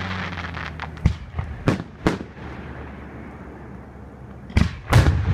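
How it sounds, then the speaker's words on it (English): Fourth of July fireworks at a show in Brian Head, Utah, bursting in a series of sharp booms and crackles, loud and fairly near, with a quieter gap between early clustered blasts and a final pair of heavy bangs. "They can make fireworks look like shapes and figures."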